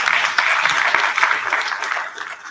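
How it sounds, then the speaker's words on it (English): Enthusiastic audience applause at a diagnostics industry event, a dense, continuous wash of clapping heard close and loud throughout. "May I have a huge round of applause for him?"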